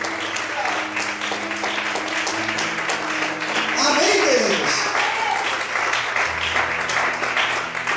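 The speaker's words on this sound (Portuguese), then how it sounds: "Vamos aplaudir ao Senhor" A church congregation applauds in praise during a worship service, steady dense clapping mixed with voices and a sustained musical drone underneath.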